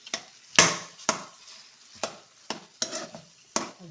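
A spoon mashes and stirs homemade tomato pizza sauce with butter in a pan. Each stroke lands as a sharp scrape or tap, about eight in a loose, uneven rhythm over a soft sizzle.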